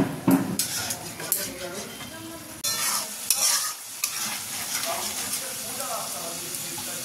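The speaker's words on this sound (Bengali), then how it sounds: "টক দই, এটাতে একটু নুন আর চিনি দিয়ে ঘেঁটে নেব" Sour curd being mixed with salt and sugar in a bowl, heard as close scraping and stirring strokes of a spoon against the container, with irregular clinks over a background hiss of frying from the stove.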